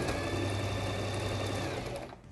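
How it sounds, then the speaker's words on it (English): A Singer 2273 sewing machine runs a satin stitch with a fast, even mechanical whir, close and loud, winding down just before the end. "I'm just going to move the dials around again and try one of the satin stitches."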